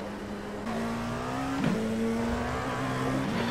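A race car in a sim racing game holds a sustained engine drone that climbs steadily in pitch, louder after a short quieter start, with brief tire or gear-shift blips along the way and no talk.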